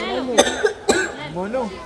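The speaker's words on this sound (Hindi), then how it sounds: "पापा आप थोड़ी देर खांसना बंद करेंगे क्या?" A father coughs twice at home, with sharp, close, loud coughs about half a second apart and a voiced throat sound between and after them.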